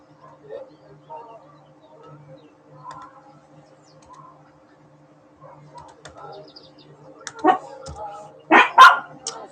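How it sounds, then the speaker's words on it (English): Dogs barking inside a house, a few sharp loud barks near the end after quieter sounds and faint talk. "Now all the dogs are going to sing in the house."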